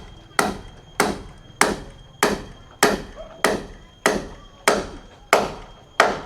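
Nails are hammered into wood on a house under construction in Thailand, about ten sharp, evenly spaced strikes, one roughly every 0.6 seconds, close and loud with short ringing decays.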